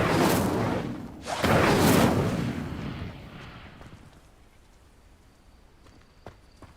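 In Hogwarts Legacy, the Incendio fire spell erupts as two loud, roaring bursts of flame in quick succession. A fading rumbling tail and faint game sounds follow.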